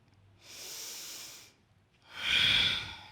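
Two slow, audible breaths, a softer long inhale followed by a stronger exhale, during a yoga hip flexion stretch. Close and quiet, with no talking.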